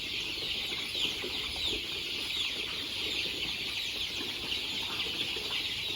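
A flock of three-breed crossbred chickens on a Thai farm clucks and flaps its wings in a steady, busy murmur of cackles and rustling that carries on throughout.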